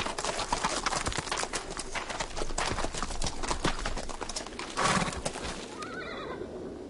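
Tired horses walk along, hooves clip-clopping in a steady uneven patter, with a horse whinnying faintly and birds cooing in the background.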